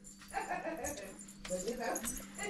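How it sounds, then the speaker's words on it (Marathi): Small puppies giving soft, high whimpers and yips in short bursts at close range, fairly quiet, with someone talking over them. "हे छोटे छोटे पिल्लू बघा, पिल्लू छोटे"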